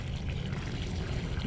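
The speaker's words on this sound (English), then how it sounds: "And then I'm going to water it in" Water pours steadily onto the soil around a newly planted bare root Knock Out rose, a continuous close, broad splashing rush with no breaks.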